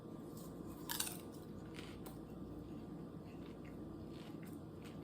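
Quiet, close crunching and chewing of Lesser Evil popcorn, with a sharper bite near the start and soft ongoing mastication after, faint against low room hiss.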